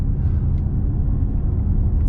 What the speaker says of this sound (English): in Sport Plus it revs a bit higher to make more sportier noises